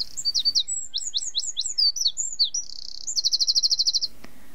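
A wren sings alone in a rapid, high-pitched burst of chirps and trills. The phrases climb and fall, then close in a fast, evenly repeated run of notes, clear and fairly close.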